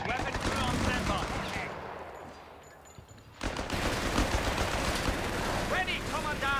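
MG 42 machine gun fire in the video game Company of Heroes 3, dense bursts and battle noise throughout, dipping quieter midway before a loud return with other combat sounds.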